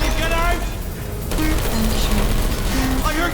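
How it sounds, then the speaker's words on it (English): Rapid bursts of automatic gunfire from the Portal 2 video game crackle continuously at mid distance, partly under a character's spoken dialogue. "I heard gunfire."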